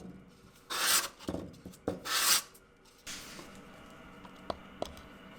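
A wooden puzzle box is smoothed by hand with a couple of loud, close rubbing strokes, followed by quieter scraping and a few small clicks.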